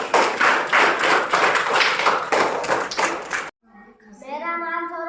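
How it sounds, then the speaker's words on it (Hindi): A group claps along during a children's alphabet and phonics lesson, a busy run of sharp, rhythmic hand claps lasting a few seconds. It stops abruptly and a young voice then begins speaking. "सब लोग ताली बजाइए"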